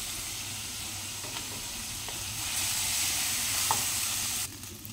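Sizzling frying in a pan as cooked rice and lemon juice are stirred together for lemon rice, a steady close hiss that swells briefly midway, with no talking.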